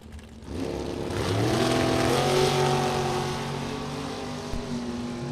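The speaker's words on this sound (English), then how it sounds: "Very close race off the starting line." A Chevrolet Camaro and a dragster launch off the starting line at a drag strip, engines swelling into a loud sustained roar that rises in pitch and slowly fades as they pull away.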